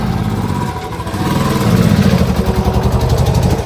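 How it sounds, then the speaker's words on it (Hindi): A motorcycle engine rumbles close and loud as the bike is pushed up a slope, its steady chugging growing fuller and busier partway through. "चढ़ानी पड़ती है यहाँ से बाइक, देखो"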